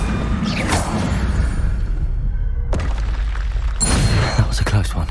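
A Confringo fire spell goes off in the video game Hogwarts Legacy, with booming, crackling blasts and whooshes over a continuous game backdrop. A voice can also be heard.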